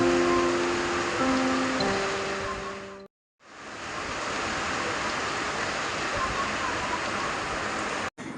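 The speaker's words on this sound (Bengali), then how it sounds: "বাহিরে প্রচুর বৃষ্টি হচ্ছে" Heavy rain falls outside with a dense, steady hiss that cuts out abruptly for a moment and then resumes. Faint tonal hums sit underneath in the first few seconds.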